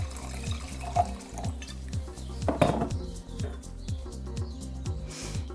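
Red wine glugs out of a bottle into a glass in a steady run of rhythmic gurgles, with a light clink of glass partway through.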